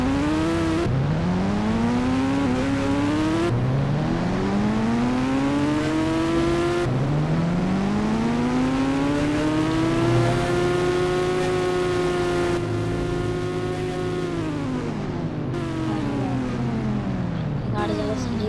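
A Kawasaki Ninja H2R motorcycle engine in a video game revs up repeatedly, each rising whine climbing in pitch then dropping as gears shift, steady and prominent throughout.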